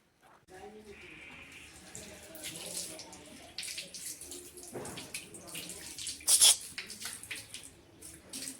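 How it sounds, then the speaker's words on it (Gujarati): Water runs steadily from a tap into a container at home, a continuous splashing stream with a brief louder burst near the end, while voices talk faintly in the background. "અમે એમાં પાણી નાખીએ"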